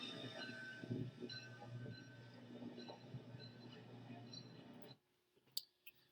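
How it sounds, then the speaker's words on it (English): A rumbling, clattering steam engine train runs steadily for about five seconds, then cuts off, leaving a few faint clicks. "I'll let you listen to some train sounds for a few seconds"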